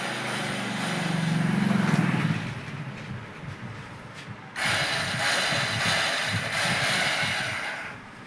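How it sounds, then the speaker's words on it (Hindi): A motorcycle starter motor on a Hero Passion Pro whirs and spins with a mechanical rattle, cutting out briefly midway and then whirring again, without turning the engine because of a faulty one-way starter clutch. "इसका सेल्फ घूम रहा है लेकिन दोस्तों इंजन को नहीं घुमा पा रहा है"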